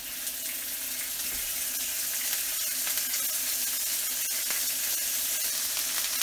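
A venison steak sears in hot oil with a dense, steady hiss of sizzling and faint pops. The sound is close, continuous and moderately quiet, with no talk.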